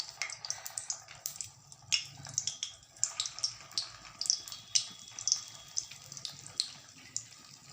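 Crispy semolina rava balls fry in hot oil over a low flame, giving a close stream of light crackles and sharp pops scattered irregularly over a faint bubbling bed, without speech.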